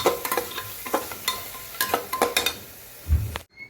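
Red chilli powder, asafoetida, coriander-cumin powder, garam masala and salt stirred through a sizzling pan, a spoon scraping in quick repeated strokes over steady frying hiss, close and clear, ending with a low thump.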